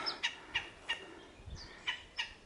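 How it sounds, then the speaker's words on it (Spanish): Bird calls ring out repeatedly along a river canyon lined with sabino trees, several short chirping calls at roughly half-second intervals, fairly clear over a soft background with no talking. "Muchas aves siempre."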